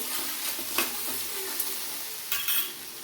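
Green chilies, tomatoes and tamarind fry in a pan with a continuous close sizzle, broken by a few scraping stirs and light knocks of a utensil, with no voices.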